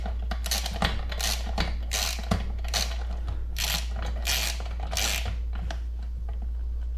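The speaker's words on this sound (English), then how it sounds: "take our socket and just tighten it down the rest of the way" A socket ratchet tightens the spark plug on a Husqvarna 525L string trimmer, giving bursts of quick, close metallic clicking separated by brief pauses over a steady low hum, with no speech.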